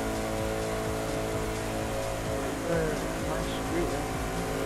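A sports car engine screams at redline in a racing video game while driving through a tunnel at top speed, a loud, dense, unbroken roar with steady high revs filling the whole stretch.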